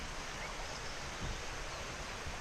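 Steady broadband rush of the River Exe flowing near Exeter, even and continuous, with no voices.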